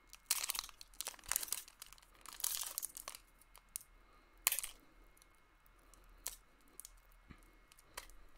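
Pokemon Sun and Moon card pack wrapper being crinkled and torn at by hand without scissors, with sharp crackling bursts and scattered clicks separated by quiet pauses, close up and alone.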